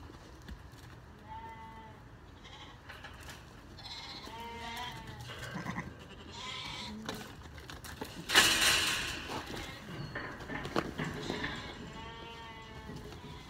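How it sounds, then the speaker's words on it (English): Sheep bleat repeatedly in a pen while a person handles them, calls rising in bursts across the stretch with a louder scuffle near the middle; a voice talks intermittently in the background. "So I got a couple of sheep in here"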